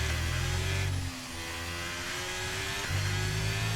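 An F1 race car engine screams around the track in the game F1 23, a high, steady whine that shifts pitch as the car upshifts and accelerates.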